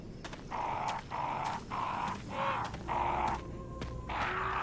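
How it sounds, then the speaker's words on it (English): Crows caw repeatedly in a horror video game, harsh rhythmic calls in a steady series of about seven bursts over a low ambient drone. "No, it's crow sounds."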